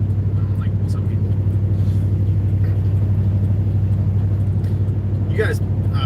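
A truck rolling down the road, its engine a steady, loud low drone with constant road rumble while someone talks over it.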